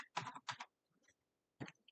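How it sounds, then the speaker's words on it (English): Typing on a computer keyboard, a few short bursts of quick key clicks separated by brief pauses, close and crisp with nothing else around them. "start typing"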